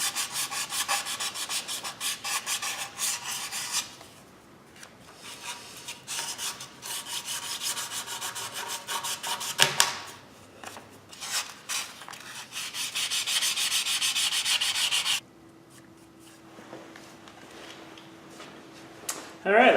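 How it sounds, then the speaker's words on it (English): Leftover 800 grit sandpaper is rubbed by hand across a car engine surface during a 2007 Hyundai Tiburon timing belt job, giving close, steady scratchy strokes broken by short pauses. "now I'm gonna finish cleaning up the surface with some leftover 800 grit from that"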